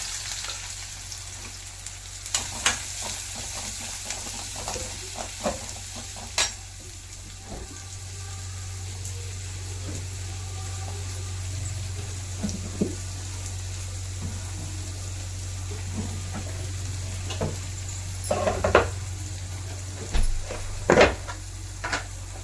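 Onions fry in a pan for tomato thokku, a low, steady sizzle with scattered sharp pops and occasional clinks of utensils.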